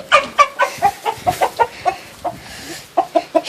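Chickens and chicks in a pen cluck nearby in a rapid series of short, bright calls, about a dozen in quick succession with a brief lull midway, with no talk.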